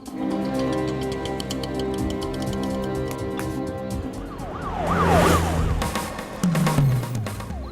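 A police car siren in a Hindi-dubbed action movie wails in rising and falling sweeps midway through, over dense background music and traffic-like rumble.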